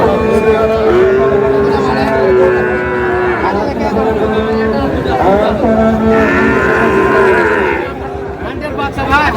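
Sahiwal calves and bulls lowing repeatedly amid a noisy cattle market crowd, with overlapping voices and bleating-like calls close by throughout.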